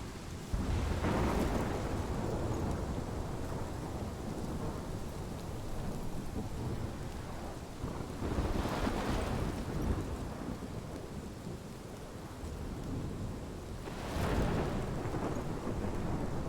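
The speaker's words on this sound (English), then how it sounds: "This is my storm." A thunderstorm in Life Is Strange Remastered pours heavy, steady rain while thunder rolls repeatedly, three loud rumbling swells spaced several seconds apart, with no talking.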